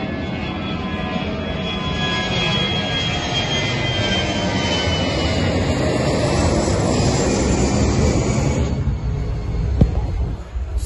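An airplane flies overhead, a steady broad roar that stays loud throughout and swells slightly near the end, with no voices.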